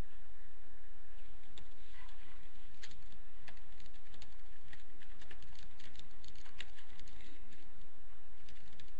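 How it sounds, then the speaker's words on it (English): Rapid, irregular clicking of a computer keyboard being typed on nearby, steady and moderately loud throughout with no voices. "I was just typing something"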